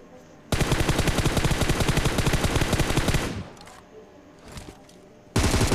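Automatic gunfire in the PUBG video game rattles out in a loud, rapid burst lasting about three seconds, followed by a few faint scattered sounds and another loud burst at the end.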